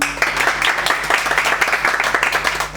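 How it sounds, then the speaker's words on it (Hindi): An audience at a Hindi shayari performance breaks into loud, sustained applause, dense continuous clapping filling the room without pause. "ये सुनो तो एक बार जोरदार ताली बजा दो"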